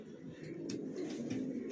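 Young racer pigeons coo softly nearby, low throaty repeated calls overlapping in a steady murmur, with faint higher chirps and rustles in the background.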